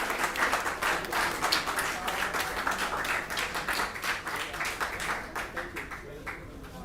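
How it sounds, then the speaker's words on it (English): Applause at a hall event as a professor is called to the stage, a crowd clapping with distinct individual claps audible, moderately distant with faint talk underneath. "Big round of applause for him."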